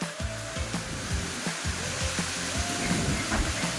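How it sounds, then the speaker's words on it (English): Strong wind gusts through a backyard golf course with a loud, continuous rushing roar that surges and eases, with no voices. "This wind will blow down the last of the dead leaves that are on the trees"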